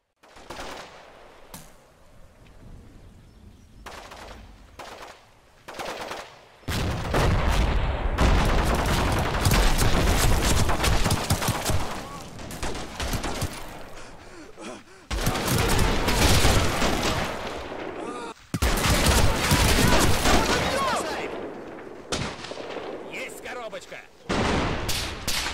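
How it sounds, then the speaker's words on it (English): Enemy gunfire in a war strategy video game starts as sparse, scattered shots, then swells into dense, sustained volleys of rifle and machine-gun fire mixed with heavy booms, loud and continuous with brief lulls. "Enemy fire begins almost immediately in response to this. It's sporadic at first, but it rapidly intensifies."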